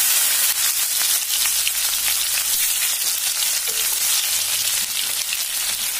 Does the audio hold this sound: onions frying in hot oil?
yes